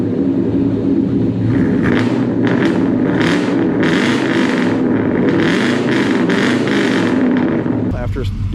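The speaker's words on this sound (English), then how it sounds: "It's a quiet muffler with a little bit of that deeper throaty sound like I like." A 1997 Chevy K1500 V8 truck with a quiet muffler idles with a steady deep rumble close by, and someone talks over it the whole time.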